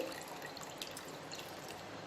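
Tamarind water poured into dal for village-style pappucharu, a soft steady trickle and drip of liquid running on for a couple of seconds.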